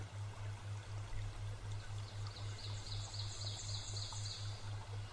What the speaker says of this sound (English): you might find yourself sitting by the edge of this stream now, listening